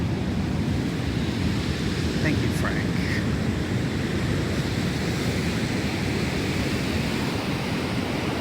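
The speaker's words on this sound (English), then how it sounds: "This is the Pacific Ocean we are looking at." Pacific Ocean surf washing onto a beach in Oaxaca on Mexico's southern coast, a steady broadband roar of waves with some wind, loud and continuous, with a voice speaking briefly over it.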